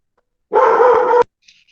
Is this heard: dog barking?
yes